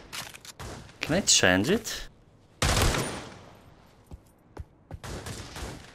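Pistol shots in the VR shooter Pavlov Shack on Meta Quest 3, a handful of sharp single cracks and a louder blast between stretches of talk, with a brief tonal chirp early on.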